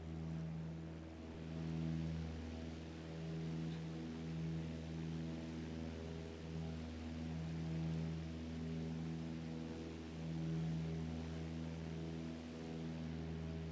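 Aircraft engine in Microsoft Flight Simulator, flying over an old RAF air base on an island, a steady droning hum with strong harmonic tones that swell gently every few seconds, running smoothly and alone with no talk.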